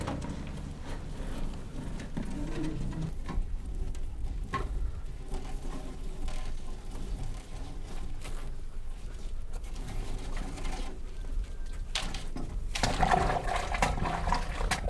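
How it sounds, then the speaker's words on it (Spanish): A steady rushing and gurgling of water surging upward from a drilled well, continuous and fairly close, with faint bird calls in the background. "Ahí está el agua, pero no ha terminado de subir aún esta agua"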